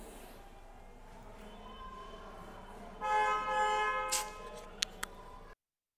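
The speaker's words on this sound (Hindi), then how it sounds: "कौन गाड़ी वाला इतना ज़ोर से हॉर्न मार रहा है" A vehicle horn blares once, loud and sustained for about a second, over a quiet background hum, followed by a couple of sharp clicks.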